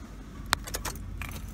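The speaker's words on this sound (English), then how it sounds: "Turn the key to the on position." Car keys jangle as a key is turned in the ignition, giving a sharp metallic click followed by a few light rattling chimes over a low hum inside the car.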